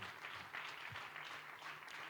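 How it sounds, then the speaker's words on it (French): A church congregation applauds together after a worship service, a steady, dense wash of clapping that holds at an even level from start to finish with no voices rising above it. "acclame une fois de plus"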